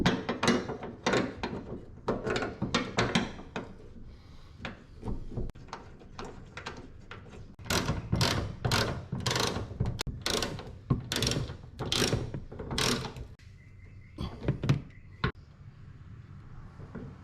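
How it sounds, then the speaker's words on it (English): Ratchet wrench clicking in bursts as bonnet hinge bolts are undone on a Nissan Navara NP300, close and crisp, with rapid pawl ticks followed by louder, spaced strokes and brief pauses between. "we just got to jump in here and remove these two hinge bolts"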